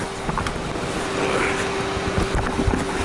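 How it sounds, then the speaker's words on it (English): A compressed air blower nozzle hisses in bursts while clearing sunroof drains on a Lexus RX300, a breathy, moderately loud rush with a faint steady hum behind it and no speech. "what I got is a blower nozzle, compressed air."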